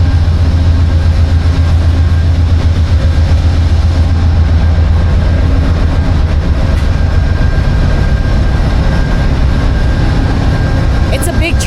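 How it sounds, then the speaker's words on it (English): Amtrak California Zephyr locomotive idling at a station platform, a loud, constant low engine rumble with a steady hum running the whole time. "Wow, there's the train."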